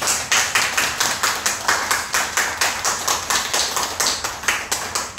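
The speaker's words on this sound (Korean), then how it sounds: "박수로 축하해 드릴까요?" Church congregation clapping to celebrate a member's birthday, a loud rhythmic clap in unison, evenly spaced beats repeating steadily throughout.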